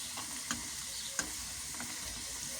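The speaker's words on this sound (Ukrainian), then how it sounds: "Ось так от, бачите, смажиться" Potato balls fry steadily in hot oil with a constant bubbling sizzle, punctuated by occasional small pops and light taps.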